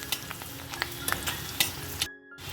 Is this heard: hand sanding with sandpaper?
no